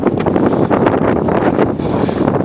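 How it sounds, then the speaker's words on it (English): Loud, steady wind buffeting the microphone high on a steep hill climb in the Peak District, a broadband roar with rumbling gusts throughout and no other clear sounds. "It's quite windy, so I don't know if you can hear me"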